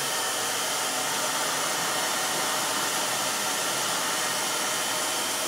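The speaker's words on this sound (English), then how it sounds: "take a hair dryer, and we're gonna blow dry it to make it really warm" A hair dryer blowing hot air onto waxed canvas, a loud, steady, unbroken whooshing roar held close throughout.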